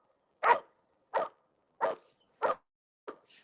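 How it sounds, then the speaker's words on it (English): Dogs bark outdoors near a trail with deer tracks, apparently at squirrels: five sharp, fairly close barks spaced about half a second apart, each ringing out alone against silence. "You must be hearing the dogs bark"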